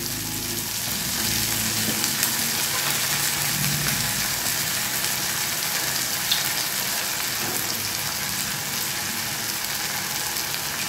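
Raw jackfruit chili with soy sauce and chili sauce is stirred in a hot pan, giving a steady loud sizzle with faint scraping, continuous and close.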